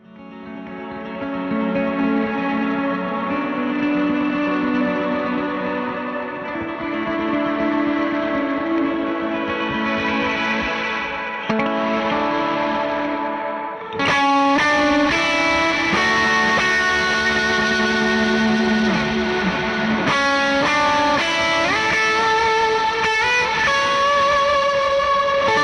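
An electric guitar plays through a heavily compressed Mercury X reverb preset, its sustained notes swelling into a lush, choir-like wash; the playing shifts around midway, with brighter, denser chords ringing out loud and alone.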